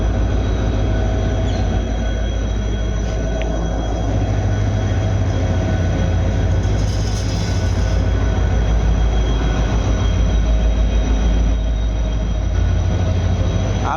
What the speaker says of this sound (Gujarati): ફાઇનલી વિપુલભાઈની ટ્રેન આવી ગઈ છે